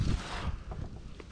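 Wind blows across a lake during early spring bass fishing in Rhode Island, a brief rough rumbling gust buffeting the microphone up close with no speech.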